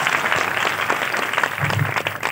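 A congregation at a Christian sermon claps hands together, giving a continuous, moderately loud patter of many hands that holds steady without a break.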